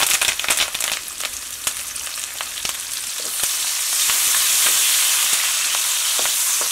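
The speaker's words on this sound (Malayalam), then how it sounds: "ഇനി ഇതിലേക്ക് ഇതാ കറിവേപ്പില, നമ്മൾ പച്ചമുളക് കട്ട് ചെയ്ത് വെച്ചിട്ടില്ല, അതും കൂടിയിട്ട് ചേർക്കാം." Curry leaves and green chillies sizzling in hot oil for a ginger curry, a close crackling fry with sharp pops early on that settles into a steady, dense hiss.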